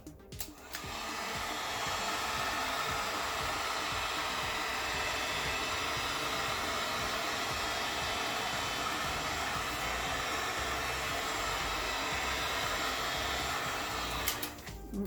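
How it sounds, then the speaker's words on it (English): Heat gun heat-forming EVA foam armor pieces, a steady loud blowing whoosh switched on near the start and running unbroken for about thirteen seconds before cutting off, close and alone. "Let's go ahead and heat form these two pieces and glue them up."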